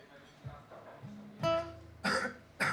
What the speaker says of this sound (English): I'm coughing a lot.